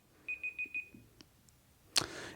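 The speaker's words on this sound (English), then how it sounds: "Oh, that's a timer going off." A timer alarm beeps four quick electronic tones in a row, fairly soft in a quiet room, followed by a short clatter.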